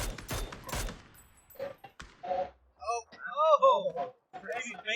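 Rapid bursts of gunfire in an esports shooter video game match, heard during the opening seconds and partly buried under excited voices and game effects that continue afterwards.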